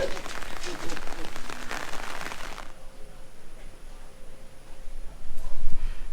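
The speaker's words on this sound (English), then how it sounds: "we got almost an inch of rain today" Heavy rain, close to an inch in a day, pours at a house and pool building site in the Philippines, a dense loud hiss that thins partway through, then a louder spattering burst near the end.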